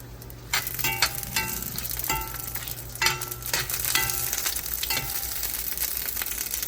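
Peppers and garlic hit hot oil in a pan and are stirred around, giving a steady close sizzle broken by scraping, clattering stirs. No voices are heard.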